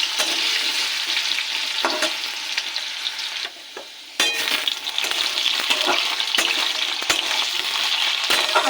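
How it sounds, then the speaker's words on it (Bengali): Potato pieces fry in a pan of hot oil tempered with black cumin, a steady close sizzle broken by a brief quieter dip and the occasional scrape of stirring. "আলুটাকে একটু ভেজে নেব"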